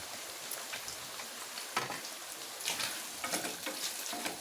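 Cubes of paneer fry in a pan for a paneer biryani, giving a steady, close sizzle of hot oil with small crackling pops throughout and no voices.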